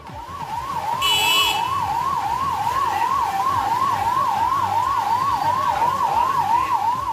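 An ambulance siren on a rain-flooded road wails in a fast, steady up-and-down sweep, loud and continuous, over a rumbling background of traffic and water noise, with a brief higher tone near the start.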